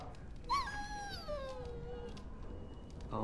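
A dog whimpering in the video game Dragon Age Origins: one drawn-out, falling whine with a brief rise at the end, moderately loud over a steady low background hum.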